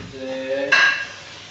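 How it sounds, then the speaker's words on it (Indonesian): Plates and cutlery clink and scrape while dishes are washed at home after a child's birthday party, a close cluster of ringing knocks ending in one brighter clatter, with no voices. "tugasnya cuci piring"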